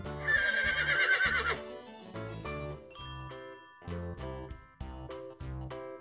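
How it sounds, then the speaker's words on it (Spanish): A mare gives a shrill, quavering whinny over cheerful bell-like music with a bouncing bass, then the music continues alone. "Mamá yegua."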